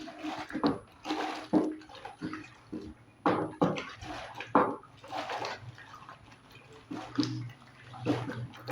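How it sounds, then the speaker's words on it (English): Room-temperature water pours and splashes into a homemade fabric softener mixture in a container, arriving in uneven bursts with stirring sounds between them, close and fairly quiet. "Now let's add the water."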